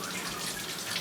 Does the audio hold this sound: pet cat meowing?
no